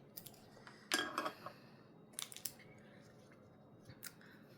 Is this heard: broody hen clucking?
no